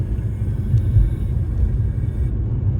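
Car with a persistent strange rumbling noise, a loud low steady drone from inside the vehicle that keeps going without break.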